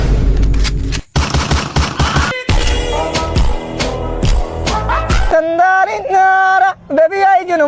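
A newly bought gun fires a burst of rapid, loud shots over several seconds, with dense overlapping reports, before the shooting stops and voices take over.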